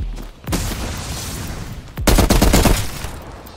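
Gunfire in Call of Duty Cold War Zombies, a dense rattle of shots that starts with a sharp report, then returns as a louder, close burst of rapid fire.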